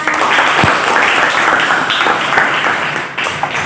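A classroom audience breaks into applause during a mathematics lesson, a dense close burst of many hands clapping that fills the room and tapers slightly at the end.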